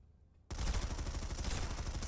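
Battle rifles firing in a video game training drill: after a short near-silence, a sudden dense burst of rapid, loud shots begins and continues as sustained fire.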